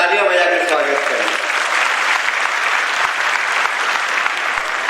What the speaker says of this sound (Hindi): जरा दोनों हाथ ऊपर करके तालियां बजाकर स्वागत करें